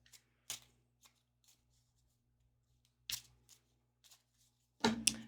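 A deck of oracle cards is shuffled in short bursts of crisp riffling and flicking, quiet and close, with pauses between them and the loudest flurry at the end.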